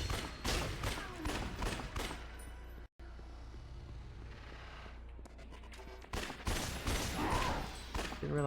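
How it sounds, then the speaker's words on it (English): Rapid machine gun fire in the Yakuza Dead Souls video game, loud sustained bursts rattling across the clip with a brief cutout near the middle, mixed with other game noise and faint talk. "The machine gun is bad."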